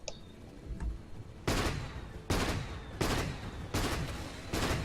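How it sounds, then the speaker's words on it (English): Flak Cannon ability in the video game Dota 2 firing a rapid series of five loud, broadband booming blasts at roughly even intervals, each with a short decaying tail, over a low background rumble. "Oh, that flak cannon just so OP for farming."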